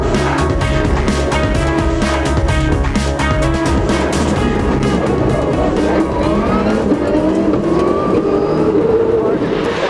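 A wide World Rally car races flat out through narrow gaps on a park rally stage at Lurgan Park, its engine roaring loud and continuous with gear-change revs and rising pitch, under a commentator's voice.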